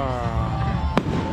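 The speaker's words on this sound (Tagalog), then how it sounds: "Fireworks." Fireworks at a fiesta adventure park in Lipa City, Batangas: one sharp bang stands out against a steady rumble and crowd noise, with a voice talking over it.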